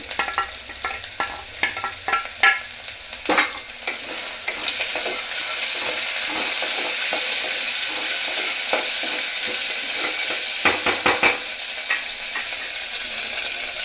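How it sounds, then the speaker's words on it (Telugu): Onions and potato pieces frying in a pan for a wheat rava pulao, a continuous close sizzle broken by frequent sharp scraping and clacking stirs of a spatula, busiest near the start and toward the end. "ఆనియన్స్ ఒక నిమిషం మనం ఇలాగే ఫ్రై చేసుకొని నెక్స్ట్ బంగాళదుంప ముక్కలు కూడా వేసేసుకుందాము"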